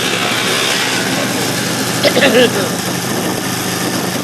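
Inside a booked ride heading home, a car engine hums steadily at low volume while people talk over it.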